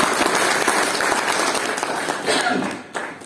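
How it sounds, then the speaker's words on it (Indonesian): A room of people at a panel discussion breaks into sustained applause for DPC Pasuruan, a dense, steady clapping that fades out near the end with a voice coming in over it. "Aplaus untuk DPC Pasuruan."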